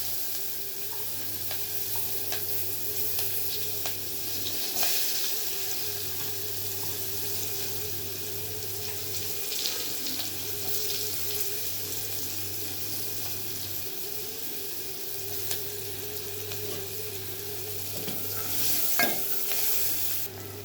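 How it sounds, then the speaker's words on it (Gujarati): Chopped onion fries steadily in hot oil with cumin for paneer bhurji, a close, constant sizzle broken by occasional spoon stirs, with no voices. "ગરમ થઈ ગયું છે. હવે એમાં નાખીશું ડુંગળી કાપેલી."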